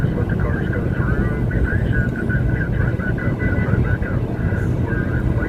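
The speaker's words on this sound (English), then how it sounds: "there's a chopper hovering us right now" A helicopter hovers overhead with a steady, loud rotor and engine drone throughout, heard from inside a road convoy vehicle heading toward DC, with people talking underneath.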